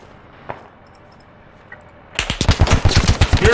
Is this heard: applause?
no